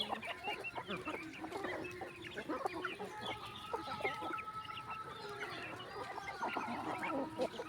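Chickens cluck steadily inside a farm shed, a dense flock of overlapping clucks and short calls close by, with a faint rooster crow mixed in and no talking.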